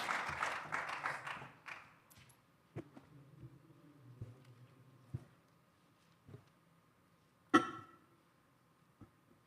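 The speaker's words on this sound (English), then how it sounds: "So can we have a round of applause to our panelists as they're all here?" A round of applause for youth panelists at an intergenerational dialogue event fills the first two seconds, then fades into a quiet room with a few scattered soft knocks and clicks.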